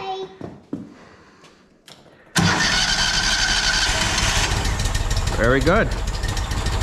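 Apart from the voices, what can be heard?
Walker MTGHS mower engine starting with new carburetor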